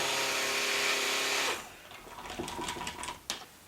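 A stick blender gives a brief, loud, steady whir in orange soap batter made with real juice and orange peel powder. The motor stops after about a second and a half, leaving faint clinks and light handling noises.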